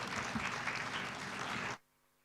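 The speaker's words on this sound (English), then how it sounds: "A huge round of applause, please." Audience applause at a book launch during an international religions conference, sustained dense clapping from a hall that stops abruptly, leaving near silence.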